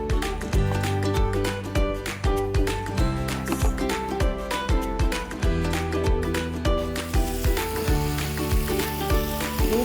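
Tomatoes go into a pan of sizzling chicken jhal fry, making a steady frying hiss with stirring clatter, close and fairly loud, alongside a rhythmic musical backing.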